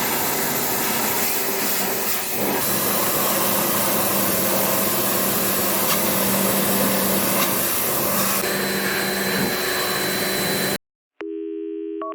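A spray washer blasting water over the air-conditioning condenser of a Ford Ranger 3.2 Wildtrak, a loud, steady hissing roar with a droning hum that runs continuously, then cuts off abruptly near the end.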